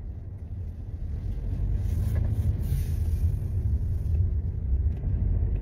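A car rolls through a parking lot, its steady low engine and road rumble filling the cabin evenly from start to finish, with a faint wind hiss on top and no talking.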